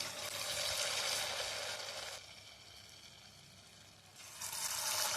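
Punukulu fritters dropped into hot oil in a kadai, a bright crackling sizzle that swells loudly, fades to a softer bubbling hiss, then surges again.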